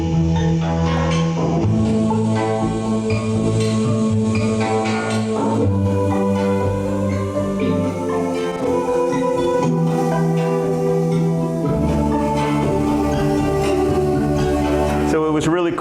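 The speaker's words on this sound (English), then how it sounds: "this is the sound of the wave station." A Korg Wavestation synthesizer playing layered, shifting chords with evolving tones, full and continuous.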